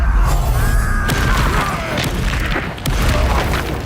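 A Bombarda explosion spell from the Hogwarts Legacy video game booms loudly and near, its rumbling blast layered with crashing debris and ringing tones that keep the sound dense throughout.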